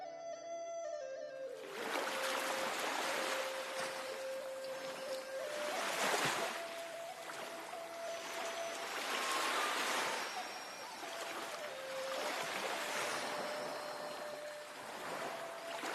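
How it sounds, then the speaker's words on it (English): Fast, treacherous water current rushes and surges steadily, a broad wash of noise that swells in waves, with faint tonal sounds layered over it. "The current of the water was flowing fast and treacherous."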